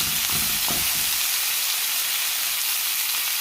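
Top sirloin steaks, wagyu and angus, frying in a hot pan with a dense, continuous hissing sizzle, close and loud, and a few low clunks at the start, with no voices.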